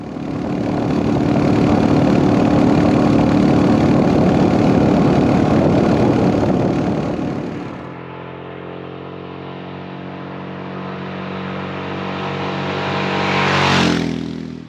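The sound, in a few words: motorcycle engine idling and revving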